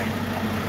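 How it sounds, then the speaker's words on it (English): A tractor trailer's heavy diesel engine idles with a low, steady rumble during a brief moment as it backs up across traffic lanes. "trying to get a tractor trailer to back across like 4 lanes of traffic"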